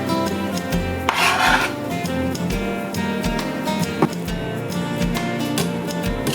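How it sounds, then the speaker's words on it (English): A knife chops onions and bell peppers into small pieces on a cutting board for a grilled chicken salad, close and fairly loud, with steady repeated cuts and rasping scrapes against the board. "So I'm chopping these up in kind of small pieces."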